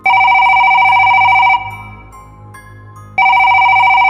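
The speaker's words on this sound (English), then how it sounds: "the old landline phone began to ring" An old landline telephone rings loudly in two long bursts separated by a quiet pause of about a second and a half, with no voices.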